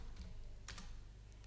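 Quick taps on a computer keyboard while entering a value in AutoCAD, a few soft close clicks with a short cluster in the middle, quiet and alone.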